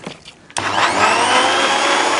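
A mixer grinder starts abruptly after a brief quiet moment and runs loud and steady, a high whirring roar of blades spinning lime juice, sugar and water in the jar.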